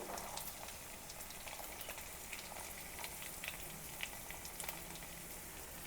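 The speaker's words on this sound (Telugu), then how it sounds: "అల్లం వెల్లుల్లి పేస్ట్ బాగా వేగిపోయింది" Ginger garlic paste sizzles in hot oil with chillies and beans for mushroom and paneer fried rice. The frying is a steady, even crackle with small pops throughout, and no one speaks.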